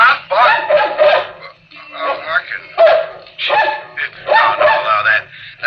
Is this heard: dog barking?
yes